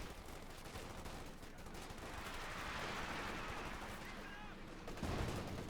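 Distant MG34 machine gun fire in the Company of Heroes 2 battle game, a continuous dense rattle blended with explosions and battlefield noise at moderate level throughout.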